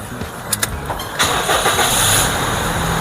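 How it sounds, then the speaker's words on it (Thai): A car engine cranks with a couple of quick clicks, then catches and settles into a steady, fairly loud idle. "ทำการสตาร์ทเครื่องยนต์"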